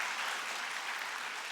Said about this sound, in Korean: 우리 훈련 받으신 분들에게 좀 박수로 격려했으면 좋겠습니다